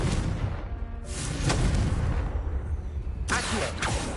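The Confringo fire spell in the video game Hogwarts Legacy bursts with heavy booming blasts, a couple of dense, loud explosions rolling over a continuous rumbling background.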